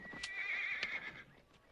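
A horse in a Western setting gives a high, shrill whinny lasting about a second, with a few faint hoof clops beneath it, heard fairly quietly.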